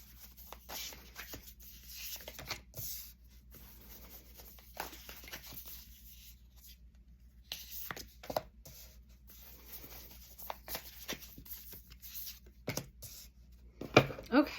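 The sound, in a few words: tarot cards being shuffled and pulled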